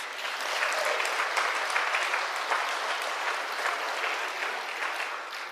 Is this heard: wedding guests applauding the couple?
yes